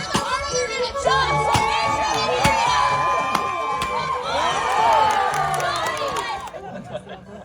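Spectators at an outdoor lumberjack show cheer and shout loudly, many voices, children among them, rising and falling in excited whoops over continuous crowd chatter.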